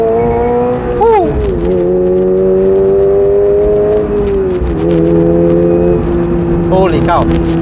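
A Toyota GR86 with a 2.4-litre naturally aspirated boxer engine pulls steadily from inside the cabin, its engine tone rising and holding through the gears, with a brief dip between pulls, while a person talks over it throughout.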